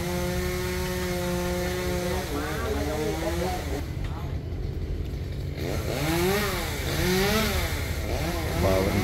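A loud chainsaw felling a large kapok tree drones close by, its engine pitch rising and falling repeatedly as it revs and bites into wood, with a brief lull midway.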